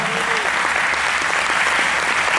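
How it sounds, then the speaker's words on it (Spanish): Church congregation clapping hands loudly and steadily, a dense continuous wash of applause filling the room at an anniversary service, with a brief murmur of voices underneath. "Denle una ofrenda de palmas fuerte, por favor"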